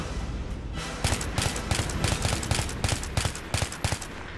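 Rapid bursts of automatic gunfire from the video game Battlefield 3, with repeated sharp shots in quick strings, loud and close, continuing throughout.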